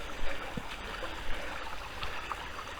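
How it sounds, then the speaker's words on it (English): A stream runs through a small wooded valley in Loamhole Dingle near Ironbridge, giving a steady broadband rush of flowing water. A few faint splashes and knocks rise briefly above the wash, and no one speaks. "this is such a beautiful little valley here with the stream coming through."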